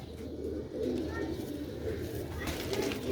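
Sialkoti grey breed pigeons cooing on a rooftop, a steady run of low, throaty coos layered over one another at close range, with faint background noise and no speech.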